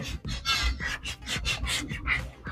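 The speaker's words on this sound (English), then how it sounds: "Just gonna rub this into the trim." Applicator pad rubbing trim restorer into car trim, a close, soft, rhythmic rasping of repeated back-and-forth strokes, about eight passes in a couple of seconds, with no talking.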